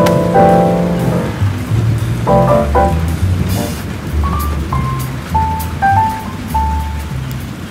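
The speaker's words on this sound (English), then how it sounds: "I'm not afraid of the rain." Heavy rain pours outdoors with a steady hiss, loud and close, while deep low rumbles and scattered tonal sounds pass over it.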